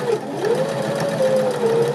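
A sewing machine runs steadily, stitching a knit jersey neckband, its motor hum close and continuous throughout with a slightly wavering pitch and no talking.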